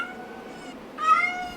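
A cat lets out a single drawn-out meow, fairly close and moderately loud, with a fainter mewing sound just before it.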